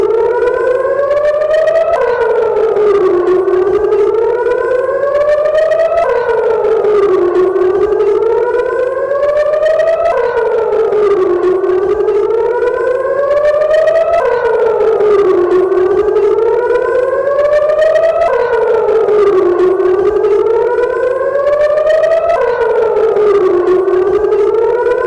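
Civil defense air raid siren in Israel, loud and continuous, rising and falling in repeated wails roughly every four seconds over about twenty-five seconds, with no voices.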